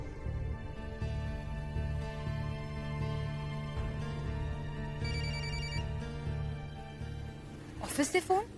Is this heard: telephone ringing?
yes